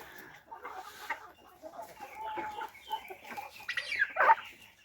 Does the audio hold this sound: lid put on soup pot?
no